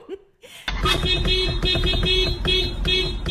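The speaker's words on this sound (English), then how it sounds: "we are talking about honking, the great Indian pastime" Vehicle horns honking in India: a continuous, loud burst of tooting horns layered over each other, starting abruptly after a brief quiet moment and sustained to the end.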